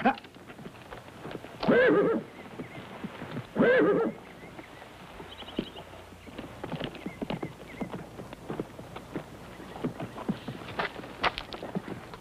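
A horse whinnies twice, loud and near, then hooves clop along steadily at a walking pace for the rest of the stretch.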